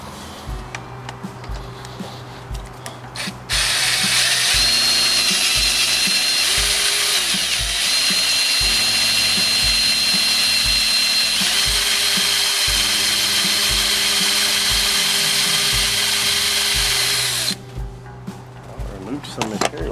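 A power drill bores out a broken stud, its motor whining loudly and steadily for most of the stretch, bracketed by quieter tool handling and clatter before and after.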